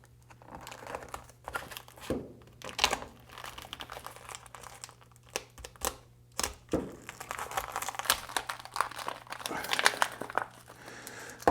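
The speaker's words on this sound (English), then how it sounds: "So I'm going to open this this package here" Crinkly plastic packaging for a GPR V5 motorcycle steering stabilizer being torn open and handled, with bursts of close crackling and rustling that run irregularly and grow busier toward the end.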